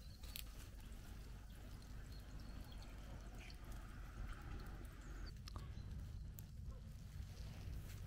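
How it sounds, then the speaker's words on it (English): Water overflowing a small dam in an erosion gully below a silt collection area, a steady low rushing and trickling wash that stays constant throughout, with faint scattered drips and splashes on top. "we have some silt collection area and then a dam, and it's just overflowing steadily."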